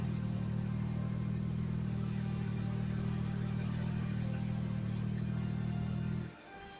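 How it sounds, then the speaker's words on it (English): A Porsche 911 engine in the video game Fortnite drones steadily at a constant pitch, loud and continuous, then cuts off abruptly near the end with no talking. "Porsche 911."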